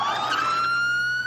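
A police siren from the Family Guy cartoon, a loud close electronic wail with a steadily rising pitch, sounding alone for a little over a second.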